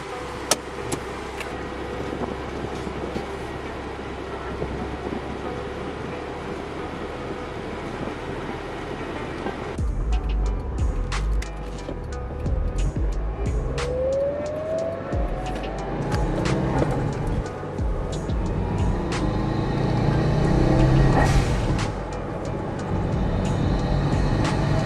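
A Mitsubishi Evo 8 out on a road test drive, a continuous engine and road rumble from inside the car that shifts midway and builds gradually, with no talking.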